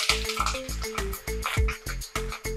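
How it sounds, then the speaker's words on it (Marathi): Curry leaves frying in hot oil, made for a thin poha chivda, with a bubbling, spitting sizzle in rapid regular bursts. A low rhythmic pulsing runs underneath, loud and close. "आता आपण कढीपत्ता तळून घेऊयात"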